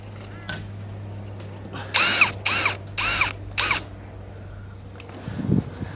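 A power drill or driver works screws with washers into a tin roof panel in four short, sharp bursts close by, separated by brief pauses, with a steady low hum underneath.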